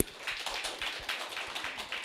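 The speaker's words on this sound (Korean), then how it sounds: "강남수 국장님께 뜨거운 박수를 보내드립니다" Applause for a lecturer at an Atomy business seminar: a small audience claps in a quick, fairly even rhythm, soft and a little distant.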